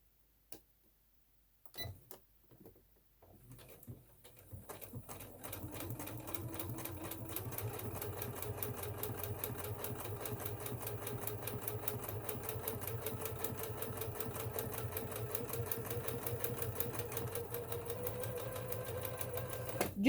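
A Janome MC 10000 sewing machine starting with a few clicks and knocks, then stitching in a fast, even, rapid needle rhythm that holds steady for a long stretch, heard up close.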